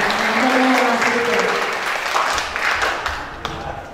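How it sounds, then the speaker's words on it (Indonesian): Audience applause for a speaker at a Taman Budaya cultural event, a dense sustained patter of many hands that gradually thins out over a few seconds, with no voices over it. "kita beri tepuk tangan sekali lagi untuk Kang Wisden"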